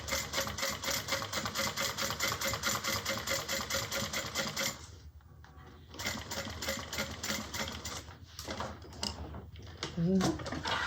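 A sewing machine top stitching a fabric bag, running in a steady fast mechanical whir with a brief pause midway, then shorter bursts and a few small clicks and handling noises.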